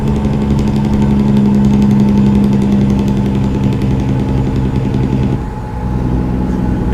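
A truck engine under Jake brake, a loud steady rumbling drone with a rapid knocking exhaust pulse, dipping briefly near the end before resuming.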